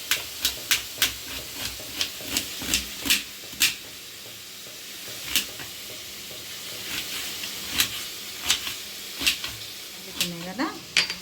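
Paneer fries in a pan with a low sizzling hiss while sharp knife taps on a cutting board tick in an irregular rhythm, and a voice speaks briefly near the end.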